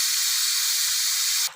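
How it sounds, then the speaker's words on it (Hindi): Steam rushes out of a pressure cooker with its weight lifted, a loud, steady hiss that holds nearly unbroken before cutting off abruptly at the end. "जो भाप है वो अच्छी तरह निकल जाए।"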